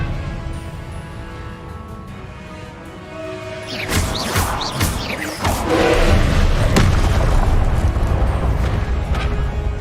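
A Confringo blasting spell in Hogwarts Legacy bursts with several sharp thuds and crashes midway, followed by a sustained rumbling roar as debris and effects continue, loud and close.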